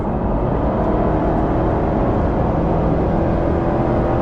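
A 2019 Subaru XV 2.0i-P on the move, its engine and transmission giving a steady, loud whirring drone mixed with road and outside noise inside the cabin, unbroken and with no talking.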